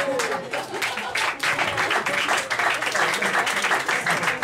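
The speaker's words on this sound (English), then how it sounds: "Round of applause for Stephen Little" Audience at a comedy club show in Cambridge applauding steadily and fairly loudly, with some cheering and a voice speaking over the clapping.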